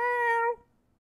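A single drawn-out meow voiced by a person imitating a cat, clear and close, fading quickly into silence.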